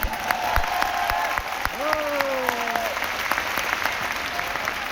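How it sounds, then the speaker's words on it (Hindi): An audience applauds steadily through the whole stretch in a hall in Delhi, a dense sustained clapping with a faint tonal whine gliding over it midway. "इन लोगों की तालियों से इस बात का एहसास होता है कि आपके लिए ये आत्मा से, दिल से ताली मार रहे हैं"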